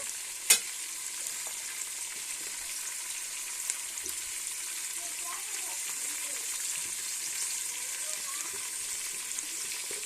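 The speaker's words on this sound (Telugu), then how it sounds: "త్వరగా ఆనియన్స్ ఇవన్నీ త్వరగా మగ్గుతాయి కదా" Onions sizzle and fry steadily in a pan with salt added for a chicken gongura curry, a continuous hiss with occasional stirring scrapes and one sharp click near the start.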